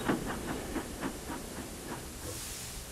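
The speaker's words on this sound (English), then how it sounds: "just as Thomas chuffed in." A cartoon steam engine chuffs in, giving soft rhythmic puffs about every quarter second under a constant hiss of steam, fading slightly as it slows.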